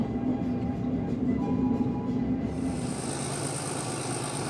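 A train on the Ecuador railroad rumbles steadily with a low continuous roar and faint higher tones, heard from on or near the moving train, with no talk.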